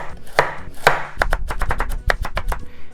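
Kitchen knife cutting carrot and daikon radish into thin diagonal strips on a cutting board for kimchi: two slower chops, then a quick run of sharp, close knocks on the board, with no one talking.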